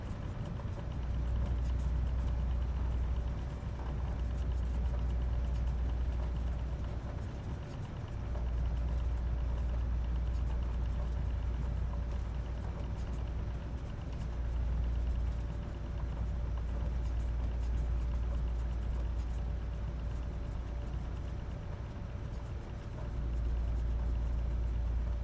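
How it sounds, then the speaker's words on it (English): Cessna Titan 404 twin-engine propeller aircraft in the flight simulator MSFS2024, steady droning engine and propeller hum with a constant tone, loud and continuous throughout, with slight swells, no talking. "I really like the sound of the propellers and the engine."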